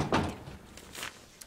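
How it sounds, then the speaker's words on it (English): A door swings shut indoors with a soft thud early on, followed by faint shuffling and a lighter knock-like tap, all quiet and close, with no talking. "Well, if you're coming in, close the door behind you."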